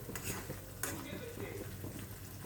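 Fish roe curry mixture frying in oil, a steady low sizzle with occasional stirring scrapes in a pan, close and continuous.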